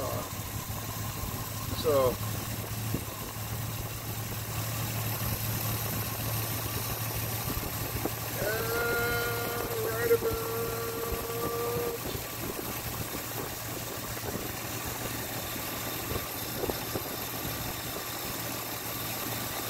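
A newly built slant six engine idles with a steady, even drone throughout, while someone speaks over it and a brief mechanical squeal and whine rise partway through.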